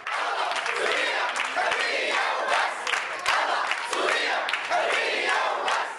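A protest crowd in Kafranbel, Idlib, chants slogans against the Iranian presence in Syria, many voices shouting together in a loud, continuous, rhythmic roar with repeated phrases.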